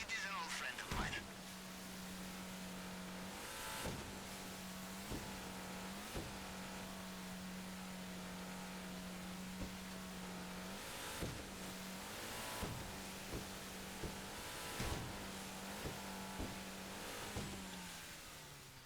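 Car driving in GTA Online during the Cayo Perico heist, a steady engine drone running throughout with periodic sharp thumps and bursts layered on top.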